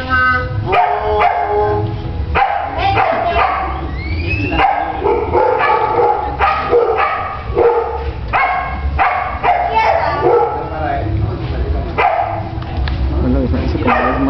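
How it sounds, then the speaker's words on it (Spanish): A three-and-a-half-year-old female dog barks in repeated sharp bursts with occasional yips and whimpers during a ring match at a seminar in Mérida, mixed with loud, nearby people talking and shouting throughout. "Una perra de 3 años y medio."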